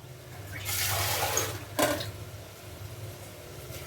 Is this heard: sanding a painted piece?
no